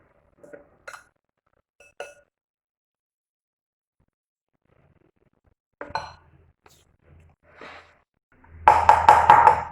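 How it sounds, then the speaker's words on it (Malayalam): A steel pan filled with rava cake batter is tapped on a surface, giving a few sharp metallic clinks early on, then a loud burst of rapid repeated clanking taps near the end. "ഒന്ന് തട്ടി കൊടുക്കാം, ബബിൾസ് ഒന്നും ഉണ്ടാകാതിരിക്കാൻ വേണ്ടിയിട്ട്."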